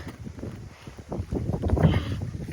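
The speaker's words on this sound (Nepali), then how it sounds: "हावा पनि चलिरहेछ" Wind gusts during rain, a rough buffeting rush that swells louder toward the end, close to the microphone.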